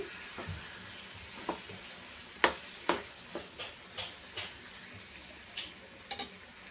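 Whole lote fish fries in hot oil with Kashmiri chilli powder, a soft steady sizzle broken by scattered pops and spatters, close-up with no voices.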